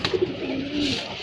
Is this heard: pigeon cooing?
yes